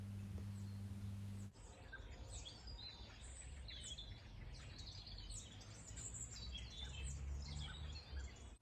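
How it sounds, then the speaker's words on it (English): Distant birds chirping and twittering steadily over a soft outdoor hush, with many small calls overlapping throughout. "in the distance, the soft, soothing sounds of the birds."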